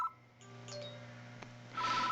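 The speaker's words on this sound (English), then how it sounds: "The phone rings." A telephone rings in the horror adventure game Death Mark, with thin electronic ringing tones over a low hum, fairly faint, followed by a burst of hissy noise at the end.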